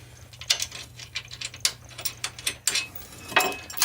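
A ratchet tightening a nylon lock nut onto a bolt through a rear bumper bracket on a Jeep TJ, giving rapid uneven bursts of close metallic clicking with short pauses between strokes.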